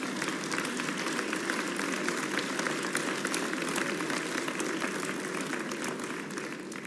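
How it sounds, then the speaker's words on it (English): Audience applause during the 2025 New Mexico State of the State address, a fairly faint but even, sustained patter of many hands clapping in a large chamber, continuing without talk. "That's a clapping thing."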